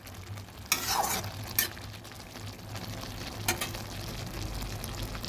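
Lotus stolon curry sizzles in a pan over high heat, a steady crackling fry broken by a few louder scraping stirs, heard alone without talk.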